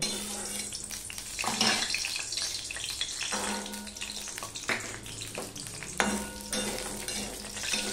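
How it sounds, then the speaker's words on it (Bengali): Sun-dried lentil dumplings (bori) frying in hot oil in a wok, a steady bubbling sizzle punctuated by several scraping stirs and clinks of a spatula against the pan, close and moderately loud, with no talking. "এবার আমি বড়িগুলো ভেজে নেব।"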